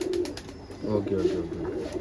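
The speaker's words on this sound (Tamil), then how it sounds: "பாபாண்ணா HMTக்கும் இந்த புறாக்கும் போட்டு பறந்த புறா தான் அவர்கிட்ட இருக்கிறதுன்னு குமாரண்ணா சொல்றாரு" Racing loft pigeons coo in soft, rolling, repeated calls close by, under a voice speaking Tamil.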